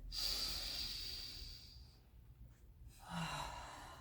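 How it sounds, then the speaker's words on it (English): A deep breath taken by people at a tai chi and qigong gathering: a long, loud inhale of about two seconds, a short pause, then a fuller exhale rising again near the end, with no talk. "Hey, are you breathing? Take a breath."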